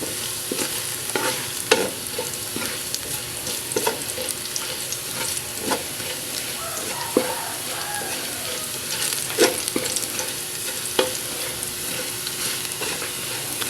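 Garlic frying in a pan until golden brown, a steady sizzle running throughout with frequent sharp clicks and scrapes of a utensil stirring, close and even, no talking.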